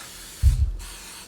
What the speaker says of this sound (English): you need to spray them with something. So we've got some canola oil